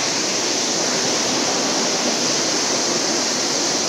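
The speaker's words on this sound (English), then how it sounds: "that's the first waterfall done, Pecca Falls" Pecca Falls, a waterfall on the Ingleton trail in the Yorkshire Dales, gives off a steady, dense roar of falling water, close and loud, unbroken for the whole stretch with no voices.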